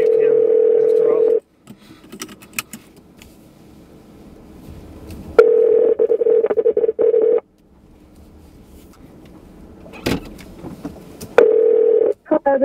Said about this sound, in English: Available commands are preset 6 is Ruthie Ruth. Dialing.